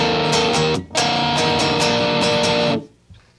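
Distorted electric guitar plays the intro of a song, dense sustained chords ringing loud and close, with a brief gap near the start and an abrupt cutoff near the end, heard alone without speech.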